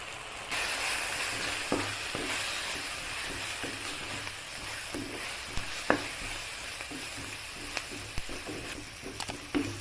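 Spices fry in a pan for a liver fry, with a constant close sizzle and frequent scraping, clicking stirs at an irregular pace.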